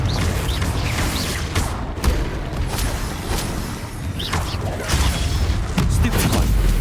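Confringo fire spell blasts in Hogwarts Legacy battle: a steady roar of rumbling, crackling combat noise with scattered thuds and impacts, loud throughout.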